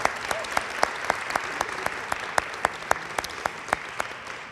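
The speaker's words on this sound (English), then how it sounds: "all of them deserve a round of applause" Steady applause from a modest crowd at a college arts and sciences awards ceremony, even and sustained, with a few sharper individual claps standing out near the front.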